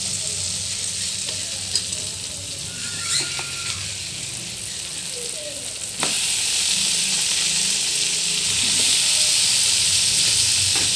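Squash (kalabasa) sautéing in a pan with a little bagoong, a loud, close sizzle with occasional stirring scrapes and clinks, the hiss swelling sharply louder about midway as the squash goes in.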